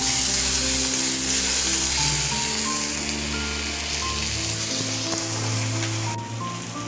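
Onion, tomato and ginger-garlic paste sizzling loudly in a frying pan, a dense continuous crackle close up with faint kitchen hum beneath.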